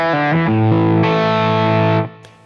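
Electric guitar driven through an Xotic Soul Driven overdrive pedal with the tone control turned all the way down, a sustained distorted chord played loud and alone, cut off abruptly near the end.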